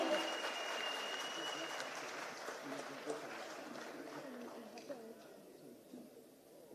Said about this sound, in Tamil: மீண்டும் ஒரு முறை ஒரு பெரிய கைத்தட்டல் கொடுத்துடலாம்.